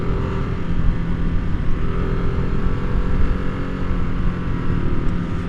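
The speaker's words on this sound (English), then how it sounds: "So that 1-2 shift is getting a lot better" 2022 Harley-Davidson Nightster motorcycle rumbling loudly through a first-to-second gear shift, a dense, continuous low engine roar that stays close with no voices over it.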